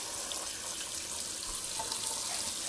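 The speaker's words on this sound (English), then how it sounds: "I'm going to turn on my hot water." Hot water runs steadily from a kitchen tap into a soup pot, a continuous close hiss and splash with no talk.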